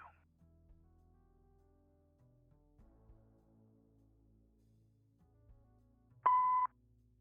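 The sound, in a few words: answering machine beep in the video game Kathy Rain 2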